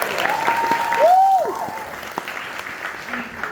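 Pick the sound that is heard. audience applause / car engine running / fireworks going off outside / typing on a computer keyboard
audience applause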